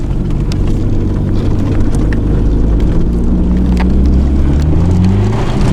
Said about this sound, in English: it's wheel spinning a bit, isn't it?